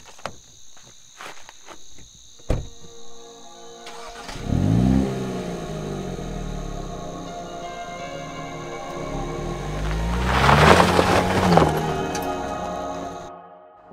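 A Hyundai Kona N hot hatch SUV starts up and revs, its engine climbing and falling in pitch through two strong acceleration pulls, loud and close, with crickets chirping faintly outdoors before the drive.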